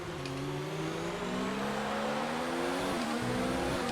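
An F1 2019 race car accelerates under full throttle, its engine whine climbing steadily in pitch over a constant wash of track noise, loud and continuous.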